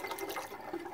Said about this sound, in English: that I'm pouring from one to the other.